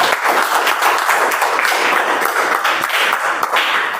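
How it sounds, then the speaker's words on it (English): A round of applause for the Toastmaster at a Toastmasters club meeting, many hands clapping in a steady, close, lively patter that holds for several seconds. "Can we have another round of applause for her?"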